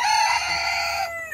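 A rooster of the Indonesian Ayam Cemani breed crows once, loud and close, holding a long drawn-out call for about a second before it trails off.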